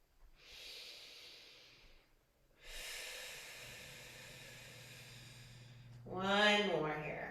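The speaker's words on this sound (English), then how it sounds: "take a few deep breaths" Slow, deep breaths during a stretching routine: a long airy inhale, a pause, then a longer exhale, close and soft, ending with a brief voiced sigh.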